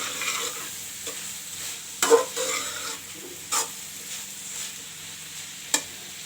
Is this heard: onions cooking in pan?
yes